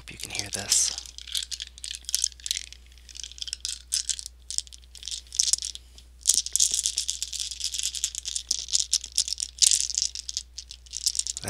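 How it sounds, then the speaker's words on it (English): Dice rattling and clattering continuously for several seconds, a busy, close-up run of sharp clicks with brief pauses, faint talk in the background. "That is just the best sound in the world, the dice."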